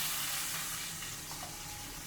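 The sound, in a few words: butter, garlic and rosemary sizzling in a pan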